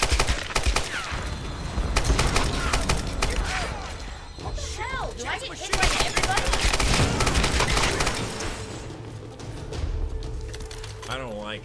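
Gunfire from shooting enemies in the Tomb Raider video game: rapid automatic bursts and single shots crack repeatedly, loud and close, with impacts and clatter, while a player talks over much of it.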